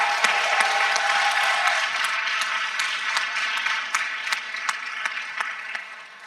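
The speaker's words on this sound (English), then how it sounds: "So a big round of applause for the ambassadors of ICC." Ambassadors of an international case competition finals are met with applause from the audience, a steady broadband patter of clapping that holds at moderate level throughout and thins slightly toward the end.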